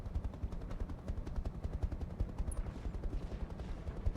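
A mech fires its weapons in the video game RogueTech, a rapid, evenly spaced stream of low, thudding shots that continues steadily throughout at moderate loudness.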